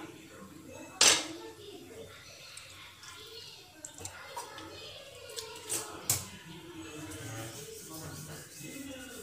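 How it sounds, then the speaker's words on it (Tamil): A small frying pan is set down on a kitchen stove with one sharp metallic clank, followed by a few faint clinks and quiet kitchen sounds. "இப்போ இதுக்கு ஒரு சின்ன வடை சட்டி வைக்கலாம்"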